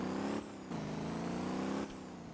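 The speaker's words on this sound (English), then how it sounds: "that little engine is loud" Loud limousine engine in the driving game Motor Town, a steady tonal drone that surges and drops as the throttle changes, close and continuous, with no speech.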